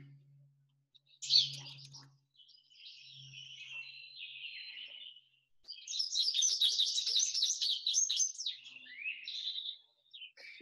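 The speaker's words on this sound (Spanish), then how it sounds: "El sonido que están escuchando son de pajaritos" High, thin chirps and twittering from small birds, in short bursts and then a denser stretch of rapid chirping, fairly close and clear.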